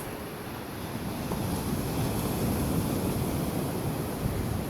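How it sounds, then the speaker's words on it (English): Ocean waves wash onto a beach at Pinnacle Gulch in a steady, broad rushing roar, moderately loud and continuous, with a light wind buffeting the microphone and no voices. "The sound of the waves."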